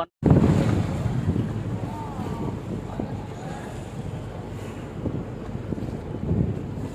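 A river boat on Bangkok's Chao Phraya River, running from Phra Arthit to Asiatique, motors steadily and fast across the water, with rushing wind and splashing waves all the way through; no talking.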